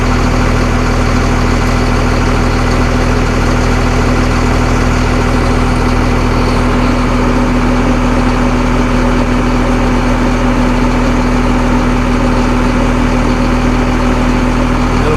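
Forestry equipment engine idling steadily with a low, even drone and a constant hum, running alone at close range with no talk.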